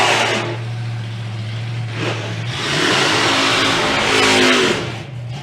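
Drag racing car making a run at Santa Pod Raceway during the summer nationals, a loud sustained engine roar with a steady low drone that swells and peaks before tailing off near the end.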